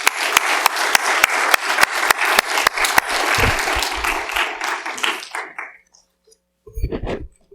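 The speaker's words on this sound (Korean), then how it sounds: "김호리 선교사님 나오실 때 큰 박수로 환영하길 원합니다" A church congregation claps to welcome a missionary, with sharp, strong rhythmic claps over a dense bed of applause that fades out toward the end, followed by a brief voice.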